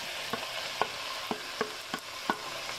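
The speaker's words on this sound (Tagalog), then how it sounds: "halu-haluin lang natin at lutuin natin ang hotdog" Sliced hot dogs fry in a pan for Filipino-style spaghetti, a soft steady sizzle broken by about six sharp scrapes of a spoon stirring at a brisk, even pace, close and with no talk.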